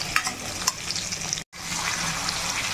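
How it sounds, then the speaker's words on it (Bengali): Pumpkin bhaji frying in a pan gives a close, steady sizzle with light stirring scrapes, cut by a brief moment of silence before the frying resumes. "তো প্রথমে মিষ্টি কুমড়োর ভাজিটা আগে করে নিচ্ছি"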